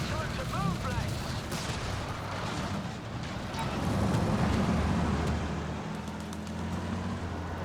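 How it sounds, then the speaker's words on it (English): Mortar and battle fire in the video game Company of Heroes 3, a heavy rolling rumble of explosions and distant shots swelling and fading over a dense, continuous war-zone background. "I can probably drop some mortars on it as well"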